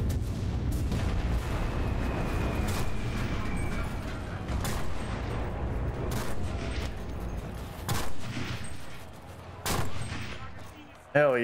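Gunfire in the World War II shooter game Enlisted plays as a dense, continuous battlefield din with scattered sharp shots and booms throughout.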